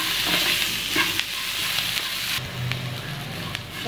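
Onion and bell pepper sauté in a pan for carrot paniyaram, giving a loud continuous sizzle broken by scraping stirs throughout.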